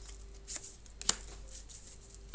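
Lenormand cards laid onto a table during a Grand Tableau reading, a few soft light slaps and brushes spaced apart in a quiet room, ending with a sharper close tap.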